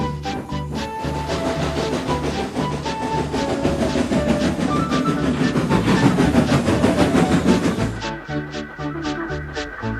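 Two train engines rumble and clatter steadily back and forth with rhythmic clickety-clack, then the sound shifts to sharper, evenly spaced metallic beats near the end.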